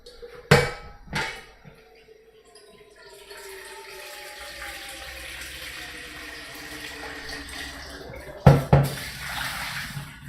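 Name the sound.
tap running, hot water for noodles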